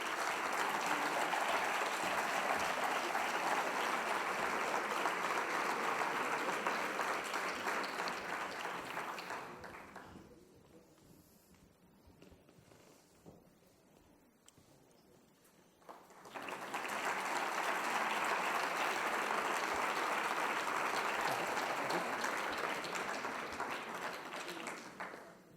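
Audience applause at a social work ceremony welcoming new members, sustained dense clapping that fades to near quiet midway, then surges back just as full for a second long round.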